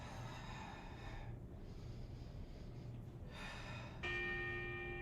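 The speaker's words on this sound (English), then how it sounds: "Halfway gong." A gong rings with sustained, shimmering tones that fade and then strike again near the end, marking the halfway point of a Brooklyn exercise class, steady and fairly faint with no talking over it.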